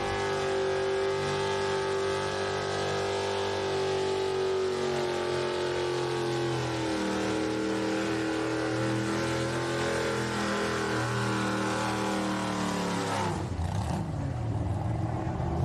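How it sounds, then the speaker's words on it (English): A pulling tractor, the red slinger, revs hard at a tractor pull in Beloit, Ohio, a loud steady roaring engine drone with rich harmonics holding for about thirteen seconds before the revs drop sharply near the end. "That tractor did not want to come off the line for him, right?"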